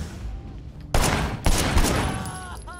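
Gunshots in the open-world action game Sleeping Dogs, three loud, sharp bursts spaced roughly half a second apart, each ringing out over urban background noise.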